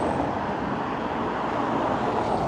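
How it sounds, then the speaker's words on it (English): Steady, dense road traffic rumbles past on a busy street in St Annes, a continuous loud wash of engines and tyre noise with no breaks. "Sorry about the traffic noise, it's getting quite busy now."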